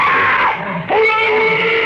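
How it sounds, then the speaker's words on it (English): Screams from a 1951 old-time radio science fiction drama, sustained high wailing cries that dip briefly midway and then rise again, loud and close, with no speech over them. "Those screams. They sounded familiar."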